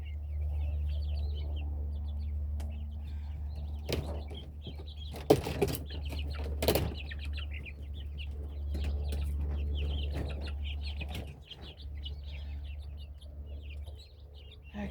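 Chickens being let out of their coop, soft clucks and chirps against a low steady hum, with a few sharp knocks and rattles from the door and wire around the middle.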